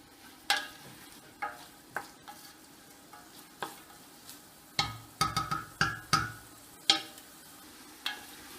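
Onions and garlic cook in a pan, with a quiet background sizzle under a series of sharp, close spatula taps and scrapes, sparse at first and then a quick cluster in the middle.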